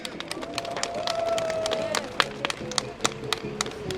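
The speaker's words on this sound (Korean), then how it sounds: "힘있는 박수 부탁드리겠습니다." A crowd at a union rally in front of a government ministry applauds, a broad wash of many hands with sharper individual claps poking through, while a tonal voice or whistle-like sound rises above it early on.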